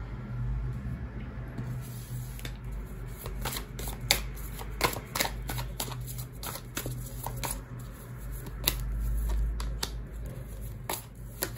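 Tarot cards being shuffled by hand, a long run of quick, crisp riffling flicks and soft slides, close and fairly quiet, with no talking over them.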